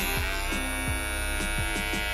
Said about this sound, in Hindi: ये देखिए गाइस जो हमारा ट्रिमर है वो चल रहा है